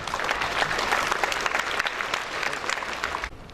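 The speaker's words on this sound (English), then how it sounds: "Congratulations to the winners and a good round of applause once again" A round of applause at a school prize ceremony fills the room, with dense steady clapping from a crowd that stops abruptly near the end.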